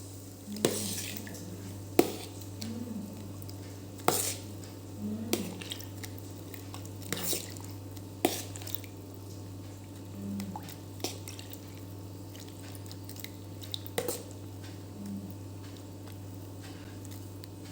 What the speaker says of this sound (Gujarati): આ માખણને આપણે એક વખત ચોખ્ખા પાણીથી સારી રીતે ધોઈ કાઢીશું